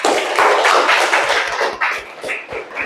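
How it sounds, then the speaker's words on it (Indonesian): Classroom applause for a winning student group: a short burst of brisk, close clapping with distinct hand strikes, fairly loud, without talk. "Tepuk tangan untuk kelompok 5"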